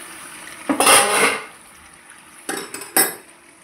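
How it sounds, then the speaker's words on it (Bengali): A metal lid lifted off a cooking pot of chicken curry, with a sharp clank and a short scraping rattle, then a few lighter metallic clinks close by, alone without talk. "ঢাকাটাকে খুলে নেব।"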